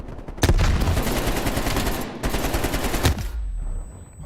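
AK rifle gunfire in the video game Call of Duty: Black Ops Cold War, a loud, dense burst of rapid automatic shots with booming reports, ending abruptly into near silence.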